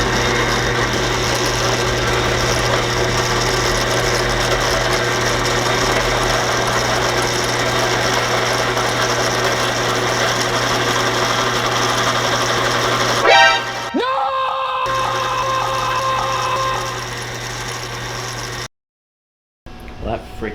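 A power drill bores steadily through a two-piece wooden shotgun pistol grip, a loud continuous whine with a strong low hum that runs most of the way, then cuts off and changes pitch briefly before stopping.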